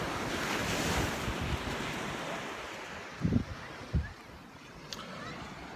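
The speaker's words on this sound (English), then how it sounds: "And that's the Pacific Ocean." Pacific Ocean surf rolls along the shore at Santa Cruz, California, near the boardwalk and wharf, a soft continuous wash of waves with wind buffeting the microphone and a couple of faint thumps.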